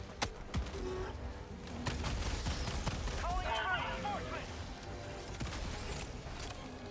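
Gunfire from the Helldivers 2 video game fighting bugs, a fairly faint, rapid spread of shots and impacts mixed with game noise and overlapped by talking.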